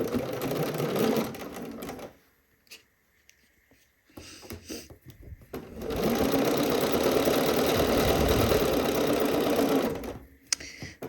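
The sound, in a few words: sewing machine sewing dress side seams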